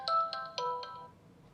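An Infinix Smart 7 phone plays its ringtone from its own speaker: a short, clear electronic melody of four bright chiming notes that fades out after about a second, with no voices.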